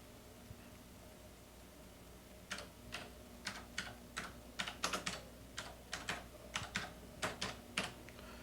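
Someone types on a computer keyboard. After a couple of seconds of low hum, a quiet, irregular run of crisp keystrokes begins and continues steadily, close by, with no talking.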